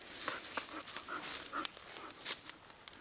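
A husky whimpers softly and pants in short, uneven bursts, faint and fairly close, with rustling around it and no talk.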